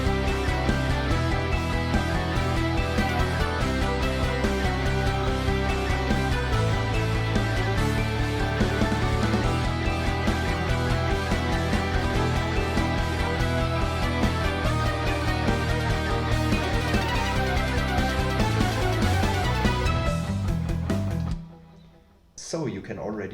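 Chorus of an instrumental production arrangement for an album, with a two-voiced lead melody over arpeggiated background chords, full and sustained for about twenty seconds before cutting off abruptly, followed by a brief quieter sound.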